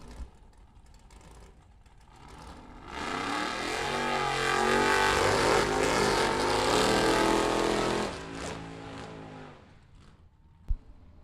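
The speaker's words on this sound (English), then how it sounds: "John Reidenbach burning it out to at least the 200-foot mark" A vintage Chevy Corvette drag car does a long tire burnout at a drag strip, its engine rising into a loud, sustained roar with screeching tires before fading back, a sharp bang near the end.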